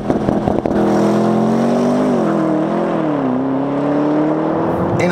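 A Porsche Panamera Turbo S E-Hybrid Sport Turismo, a heavy 2300 kg estate, accelerates hard with a loud, close engine drone. Its pitch climbs, dips briefly at a shift, then climbs again.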